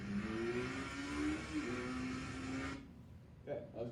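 A motorcycle accelerates hard, about 45 to 95 in 2.9 seconds, its rising engine whine climbing in pitch for nearly three seconds before cutting off abruptly into near silence.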